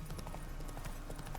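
Horse Roach's hooves clip-clop steadily across ground in The Witcher 3, a quick, even trotting rhythm close by over a constant game ambience.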